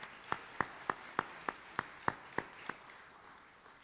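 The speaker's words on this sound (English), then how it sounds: "Let's give the folks from the foundation staff a round of applause." About ten sharp, evenly spaced claps ring out at a gala in a quiet hall, slow and isolated rather than a full crowd ovation, trailing off at the end.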